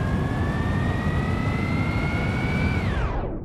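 A bus fitted with booster rockets in the BeamNG.drive racing game roars as it accelerates, a loud, steady jet-like whine with a rising tone that holds for about three seconds and then abruptly cuts away.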